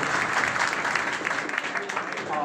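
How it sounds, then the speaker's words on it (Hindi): Audience applause at a Bihar Daroga exam preparation session, continuous clapping filling the whole stretch at moderate level, a voice faintly mixed in. "तो एक बार इसके लिए आप सभी जोर से ताली बजाएं।"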